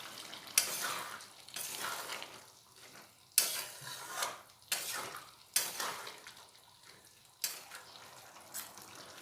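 Fried potatoes and boiled peas are sautéed for vegetarian ghugni, with a low sizzle under repeated rhythmic scraping strokes of a spatula against the pan, about one every second or so.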